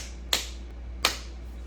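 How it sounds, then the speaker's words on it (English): Two sharp, crisp hand claps about 0.7 seconds apart, close and fairly loud over a low steady hum, with no voices. "does this little hand clap shit"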